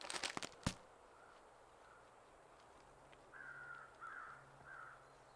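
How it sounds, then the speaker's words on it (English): Crows cawing faintly in the distance in the video game The Long Dark, three harsh calls spaced a second apart after some rustling and a sharp snap at the start. "Now I hear angry crows."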